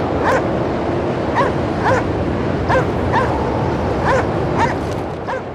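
Dog barking in the video game Cryostasis, a series of sharp yelping barks repeating at irregular intervals over a dense, noisy stormy background, moderately loud with no talk.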